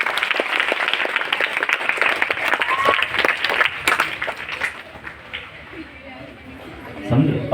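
Audience clapping for a student at a school education-awareness program at Anglo Urdu High School, Nizampur; dense, steady applause fills the hall for several seconds, then thins out, with some talk mixed in.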